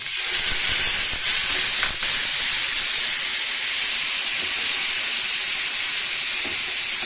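Tomatoes hitting a hot pan of spices and coriander powder in a vegetarian home kitchen, giving a steady, loud broadband sizzle and hiss that runs unbroken from start to finish with no talk.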